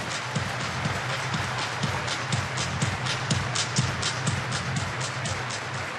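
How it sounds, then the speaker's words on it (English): A crowd at a Padres–Dodgers baseball game in a stadium claps in rhythm, with evenly spaced, loud, broadband claps repeating steadily over a constant crowd roar. "Everybody clap your hands."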